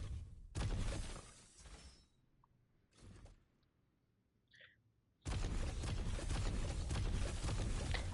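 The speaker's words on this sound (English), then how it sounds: "I like the sound these traps make when they're placed." Traps placed in Fortnite Creative give short, bright crashing bursts like shattering glass, with a couple of brief softer clicks and chimes between, then a long loud rushing burst at the end.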